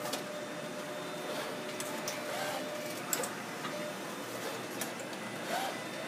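Digital color disc printers run in a disc duplication room, giving a steady mechanical whir with faint ticks and small clicks scattered through it and no talking.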